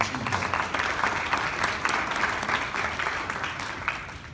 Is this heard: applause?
yes